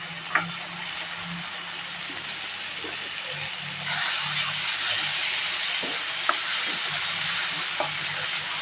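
Dill leaves wilting and frying in hot oil in a pan for a gravy, giving a steady close sizzle with occasional stirring clicks and scrapes, a voice speaking briefly over it.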